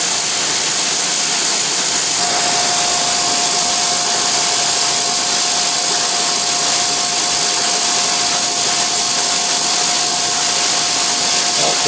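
A milling machine with coolant flowing cuts a 3/4 inch slot in metal over repeated shallow passes, giving a loud, continuous hissing roar with a thin steady whine running through it and no break.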